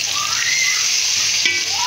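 A small splash of water poured into a hot pan of softened onion and tomato, giving a brief steady sizzle and hiss that holds evenly through the moment, loud and close.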